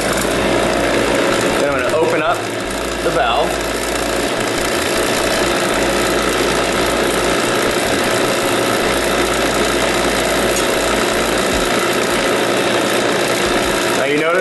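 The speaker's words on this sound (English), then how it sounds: "first turn on my pump so I don't lose my vacuum." A steady mechanical drone of an HVAC vacuum pump running continuously, close and loud, with someone talking briefly over it near the start.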